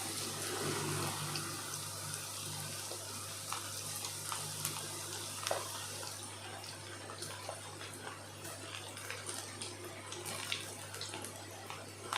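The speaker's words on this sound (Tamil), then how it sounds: "நல்லா பொரிஞ்சோன்னே எடுக்கலாம்" Cauliflower pakoda deep-frying in hot oil gives a steady, dense sizzle and bubbling that runs throughout without a break, close and fairly loud.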